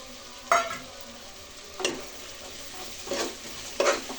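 A spatula scrapes and stirs chilli powder, spices, salt and grated coconut frying in a pan, giving four distinct scraping strokes spaced over a soft, steady sizzle.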